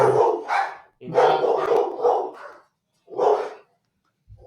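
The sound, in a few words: dogs barking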